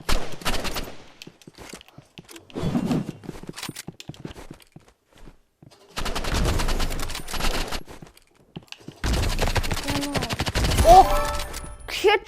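Gunfire in the shooter game Rivals, bursts of rapid shots and impacts in several clusters separated by quieter gaps with footsteps, fairly loud and close.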